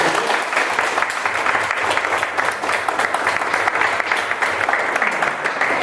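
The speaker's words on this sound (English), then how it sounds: "can we have one last round of applause for our 4th grade?" Steady applause from a crowd at a fourth-grade poetry reading fills the whole stretch, a dense, even patter of many hands clapping at once.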